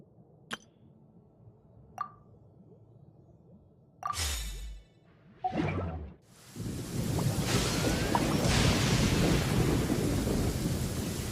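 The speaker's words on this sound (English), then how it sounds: "sound of thunder is the prelude to new life?" Thunder in the Genshin Impact video game: a few sharp cracks and rolling booms, then steady heavy rain or surf-like rushing that continues to the end.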